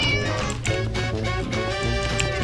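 A cat meows in the Flame Over video game, its cries layered over steady background music that runs the whole time.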